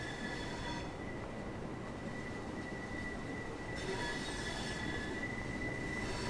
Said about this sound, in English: Here's a train just pulling in.